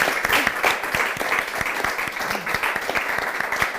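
An audience at a Campus FAES 2022 lecture on the war in Ukraine breaks into warm, continuous applause, a crowd of hands clapping evenly and steadily throughout.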